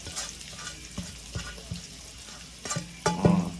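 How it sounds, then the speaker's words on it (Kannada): Chopped onions fry with cumin and mustard seeds in a pan, a soft sizzle under repeated scraping clicks of a spoon stirring, with a louder clatter near the end. "ತಿರುವಾಡಿ ಸ್ವಲ್ಪ ಉಳ್ಳಾಗಡ್ಡಿನ ಫ್ರೈ ಆಗಬೇಕು."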